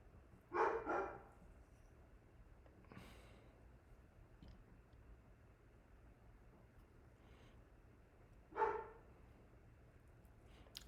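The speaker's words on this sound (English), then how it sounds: "My dogs are so annoying with barking." Dogs bark in a quiet room: a short double burst near the start, a faint single bark around three seconds, and another clear bark near the end, with low hum between.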